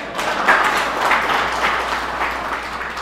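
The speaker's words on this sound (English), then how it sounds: "That's why you see the honorable members are clapping." Members of a parliament clapping together in a debating chamber, a sustained burst of applause that swells and eases for several seconds with no voices on top.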